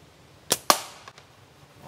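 A Scout X Pro slingshot with latex bands tapered 12 to 20 fires two sharp, loud snapping shots close together, followed by a faint distant impact tick, with quiet outdoor stillness around them.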